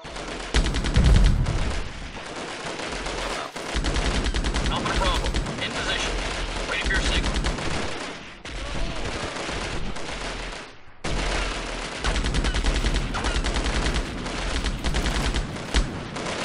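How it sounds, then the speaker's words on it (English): Rapid machine gun fire in the original Delta Force video game, dense repeated bursts that run almost continuously with short pauses, while someone talks over it. "This is a machine gun, so accuracy isn't good."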